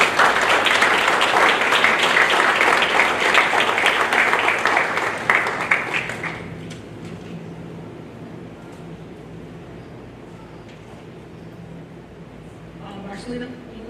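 Student athletes at a best-teammate awards event applaud their parents, a dense wash of clapping for about six seconds that then fades to quiet room tone with faint murmuring.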